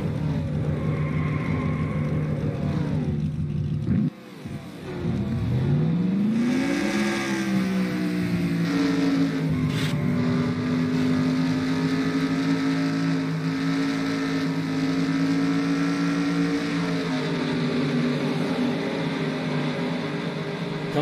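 NASCAR stock cars racing at Homestead, loud engine roar from cars passing close by, then a sustained rising and steady drone as the field accelerates.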